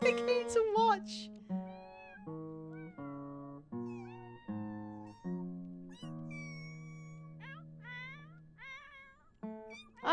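Several cats meowing in a video game, a rapid string of distinct, clear, close meows with pitch-bending cries one after another, some overlapping, with no speech between them.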